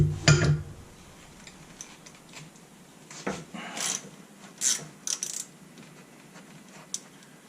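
A ratchet wrench with a 5/16 socket works bolts loose on the dust shield of a 2001 Ford F-150. It gives a few short, quiet clicking bursts with gaps between them, close by and otherwise near silent.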